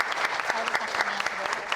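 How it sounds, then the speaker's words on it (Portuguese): An audience at a university extension event applauds, a dense, steady patter of many hands clapping at moderate loudness that carries on through the whole stretch. "palmas para o terceiro"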